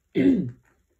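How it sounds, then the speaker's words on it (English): A single short, throaty cough or throat-clear, close and fairly loud, lasting about half a second before silence. "I feel like my coughing's like really loud on the volume"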